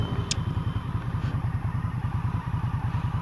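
A 2017 Victory Octane motorcycle rumbles along on a test ride, its engine giving a steady, loud, low throbbing pulse with a continuous rough texture and a brief faint tick early on.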